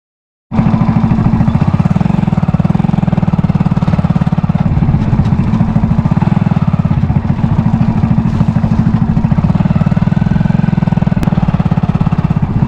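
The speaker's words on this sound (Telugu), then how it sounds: "రాపిస్తాను ట్రాక్టర్ తోటి." A tractor engine runs while ploughing a field, starting abruptly and then holding a loud, steady, rapid chugging drone close by for the rest of the clip.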